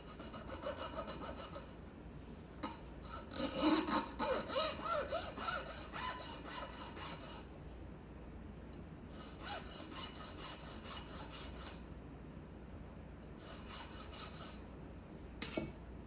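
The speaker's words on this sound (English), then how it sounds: "what I want to do now is file that a little bit. It's got kind of a relatively fine file here." A relatively fine hand file rasps a burr off a rifle stock part, repeated stroking scrapes in short bursts separated by quiet gaps, close and moderately loud.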